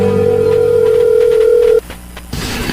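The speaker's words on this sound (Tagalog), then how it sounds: "Please, Emil, sagutin mo ang telepono." A telephone gives a single loud, sustained electronic tone lasting nearly two seconds. It then cuts off abruptly, leaving quiet room noise and then a burst of hiss.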